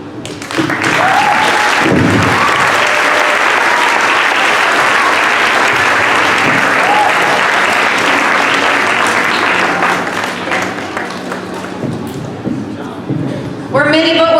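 A school assembly crowd claps loudly and continuously for about fourteen seconds. The dense, even applause fades slightly toward the end, and faint voices rise through it.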